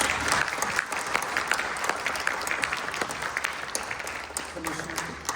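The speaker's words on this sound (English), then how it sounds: "let's give a round of applause to our presenters" Sustained applause at a Los Angeles City Charter Reform Commission meeting, many hands clapping in a steady dense burst that slowly thins toward the end, with a voice faintly underneath.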